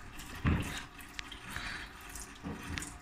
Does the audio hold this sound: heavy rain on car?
no